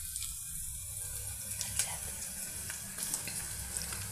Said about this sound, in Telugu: ఆయిల్లో పెద్దకాయలు, ఒక హాఫ్ స్పూన్ అల్లం చిన్నులపాయల పేస్ట్ ఫ్రై చేసామండి.